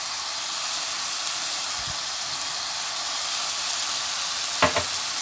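Onion and chicken fry in a pan with ginger, carrot and salt, giving a steady, close, dense sizzle throughout, broken by a couple of brief clinks near the end, with no talking.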